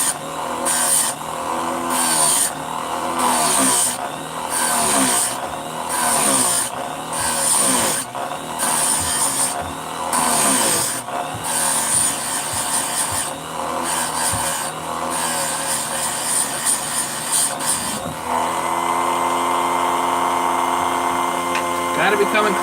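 Hand coffee grinder crushing beans: a loud, close, rhythmic grating and crunching in repeated strokes, turning smoother and more continuous near the end.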